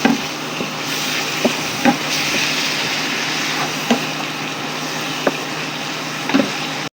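A spoon scrapes and taps through a simmering sauce of vinegar and brown sugar in a pan, soft bubbling sizzle underneath and several distinct stirring knocks spaced a second or so apart.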